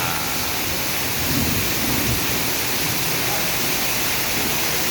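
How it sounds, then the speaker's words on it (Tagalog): Heavy downpour in Caloocan during a May storm, a dense steady roar of rain with a low thunder rumble swelling briefly in the middle. "Malakas na ulan na naman"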